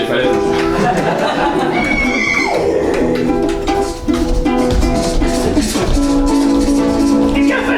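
An improv performer on stage imitates a horse with a loud, wavering voiced whinny, rising and falling over several seconds before breaking off, with other stage voices around it.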